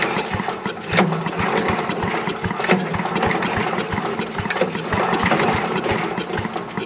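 A Little Wonder walk-behind leaf blower engine is cranked over and over by hand. It turns over in a steady run of close, rhythmic mechanical chugs with sharper knocks here and there, and no one talks.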